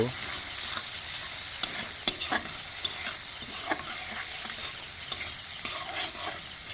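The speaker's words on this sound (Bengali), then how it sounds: "এবার ভালো করে ফ্রাই করে নেব।" Spices and turmeric frying in a pan for a potato dum, a steady sizzle broken by repeated sharp spoon clicks and scrapes as the mixture is stirred, close up with no speech.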